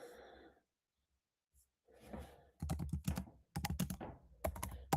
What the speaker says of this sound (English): type a question in here